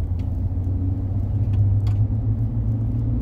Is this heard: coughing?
no